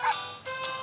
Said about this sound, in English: It's usually two barks